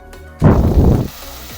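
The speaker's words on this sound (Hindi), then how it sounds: "नॉर्मल फ्लेम पे इसको फ्राई करेंगे।" Chicken for Chicken Manchurian hits the hot pan on a normal flame, bursting into a loud, crackling sizzle that swells suddenly, holds for under a second, then drops back to a quieter background fry.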